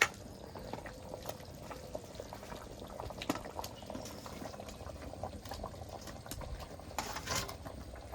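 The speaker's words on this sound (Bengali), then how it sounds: "জল দিয়ে দিয়েছি তরকারিটা একটু জাল হতে থাকবে" Watery gravy for a thin rohu fish curry simmers in a pot, giving quiet, continuous bubbling with soft popping and patter and a few brief louder blips.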